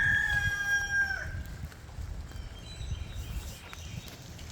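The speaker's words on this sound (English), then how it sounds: "I think I hear a rooster." A rooster crows once, fairly close and clear, at a rainy beach campground in early April, the call fading within about a second into quiet rustling outdoor background.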